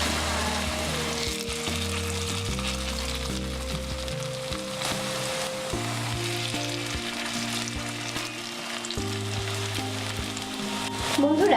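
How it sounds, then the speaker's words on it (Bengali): Potato pakoras frying in soybean oil over medium-low heat, giving a steady dense crackling sizzle throughout with a constant low hum underneath, close and loud with no voice. "এখন আমি মিডিয়াম হালকা হিটে এক পিঠ ভেজে নেব"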